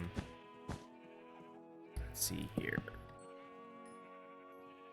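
Blocky Minecraft sheep (version 1.8.7, server play) bleat in a few short nasal calls, clustered near the start and again in the middle, over a steady game-music backdrop while someone talks.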